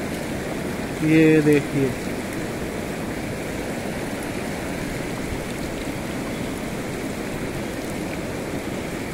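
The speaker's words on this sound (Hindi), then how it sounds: "और इतना ठंडा जल आ रहा है ये कि आप अनुमान नहीं लगा सकते।" Cold, clear water of the Beas River in the Kullu valley rushes in a steady, broadband wash throughout, with a brief spoken phrase early on.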